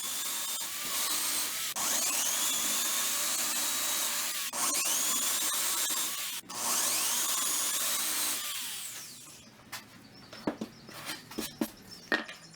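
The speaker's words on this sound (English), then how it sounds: "I'll take my drill and a Forstner bit and I'll drill out my holes" A power drill with a Forstner bit whines steadily through several long bursts into scrap wood, briefly stopping between holes, then ends with scattered clicks and knocks from the work.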